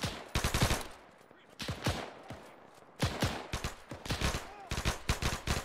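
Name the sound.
gunfire in ArmA 3 video game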